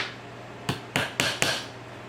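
Four sharp hammer blows drive nails into a wooden display shelf, coming in a quick, evenly spaced series, close and distinct over a quiet room hum.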